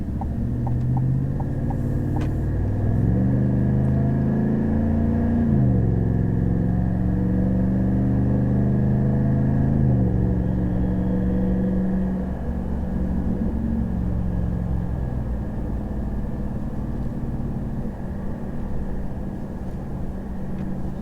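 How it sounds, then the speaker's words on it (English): A GM 6.6L gas pickup truck with a Borla S-Type exhaust tows a load, heard from inside the cab as a constant deep rumble whose pitch climbs and drops with each gear change. "footage that I recorded inside the cab while towing recently so that you can get a better idea of what it sounds like"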